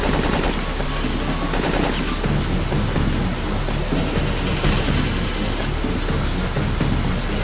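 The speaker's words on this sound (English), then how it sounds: "He's actually shooting!" Sustained machine-gun fire from the video game Syphon Filter 3 rattles densely and loudly for the whole stretch, a steady wall of rapid shots with no pauses.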